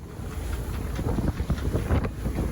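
Sailboat beating up a coastline into rough waves and strong wind: heavy roaring wind buffets the microphone while water surges and slaps around the hull in uneven bursts, loud and close, with no talk.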